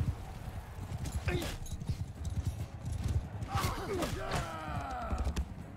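A horse gallops in Mount & Blade Bannerlord with close, rapid hoofbeats and a couple of sharp whinnies over busy background noise.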